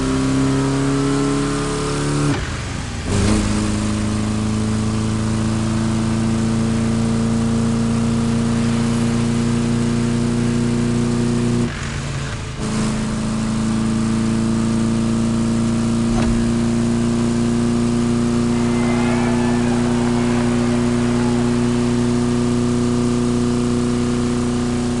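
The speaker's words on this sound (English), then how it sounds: "Let's push that good old Type 2 engine to its absolute limit" A Volkswagen Type 2 bus engine in The Crew Motorfest revs hard and holds a loud, steady, buzzing drone with a few brief dips in pitch, close and continuous throughout.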